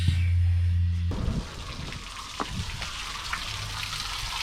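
Water runs steadily through the cooling inlets of a 2020 Mercury 15 HP four-stroke EFI outboard motor, a continuous splashing hiss with faint drips. A low hum cuts off sharply near the start.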